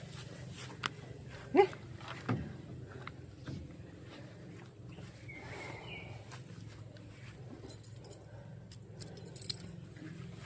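A bunch of keys jangling outdoors, with a few brief metallic clinks standing out over a steady background hum, including one sharper rattle early on.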